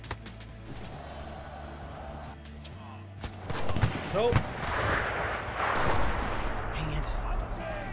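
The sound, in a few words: gunfire in Enlisted video game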